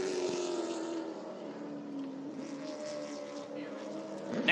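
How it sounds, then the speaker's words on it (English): Late model stock car circling Caraway Speedway, a steady engine drone heard at a moderate distance that swells slightly at the very end, with no talking. "Next car out on the racetrack"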